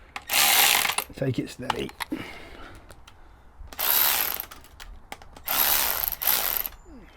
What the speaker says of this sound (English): don't use a machine, use a normal ratchet